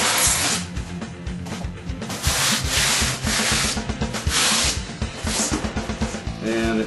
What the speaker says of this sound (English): it's easiest to clean it up by just rubbing the two pieces together to get off all the little shavings